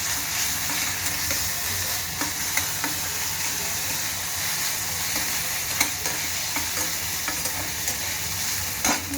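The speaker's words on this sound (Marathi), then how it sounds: "त्यात थोडीशी आलं लसूण पेस्ट टाकायची. परत छान असं परतून घ्यायचं." Ginger-garlic paste sautéing in a pan after the onions, a steady hiss of frying with occasional scraping stirs from a spoon, no voices.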